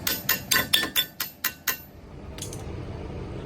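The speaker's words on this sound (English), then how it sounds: "strike it with a hammer to make sure that our axle is loose and will slide through the wheel bearing assembly" Hammer blows on a Dodge Ram 1500 4x4 front axle to free it from the wheel bearing assembly: seven sharp metallic strikes in quick, even succession, then a couple of softer taps after a short pause.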